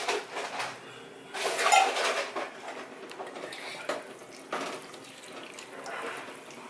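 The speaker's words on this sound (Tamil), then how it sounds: "நான் வந்து தேங்காய் பால் ப்ளஸ் தண்ணி மிக்ஸ் பண்ணி அளந்து வச்சிருக்கிறேன், அதையும் ஊற்றிக்கிறேன்." Coconut milk mixed with water poured into a cooking pot for chana pulav, a steady liquid splash with faint clinks of utensils in a quiet kitchen, no talking.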